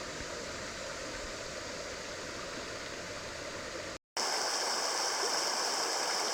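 River water rushes over a shallow riffle on a swollen bass river, a constant loud hiss of flow with one brief dropout partway through.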